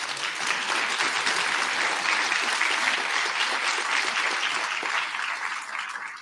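Sustained audience applause at a county State of the County address, steady and dense clapping from a large crowd throughout, easing slightly at the end.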